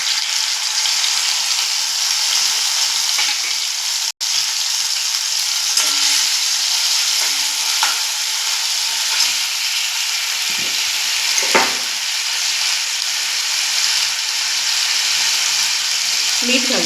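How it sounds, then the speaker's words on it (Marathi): Chopped tomatoes fry in hot oil tempering for dry fried beans, a loud, continuous close-up sizzle with occasional stirring scrapes throughout. "त्यासाठी आपण आता टोमॅटो घालतोय फोडणीला."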